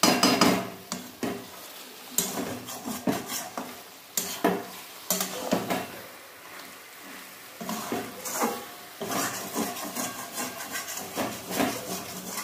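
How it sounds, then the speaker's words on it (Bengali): A spoon scrapes and turns chicken in a sizzling pan. Repeated bursts of stirring and rubbing come in an uneven rhythm over a low, constant frying hiss, close and clear. "এবার এটা চিকেনের সাথে ভালো করে মেশাবো।"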